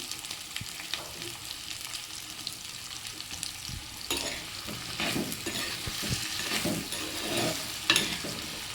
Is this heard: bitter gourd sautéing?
yes